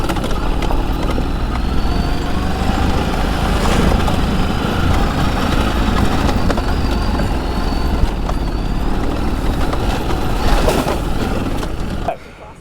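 A Ducati DesertX motorcycle climbing a slope in second gear, its engine giving a steady, fairly close rumbling drone under wind and road noise that cuts off abruptly at the end.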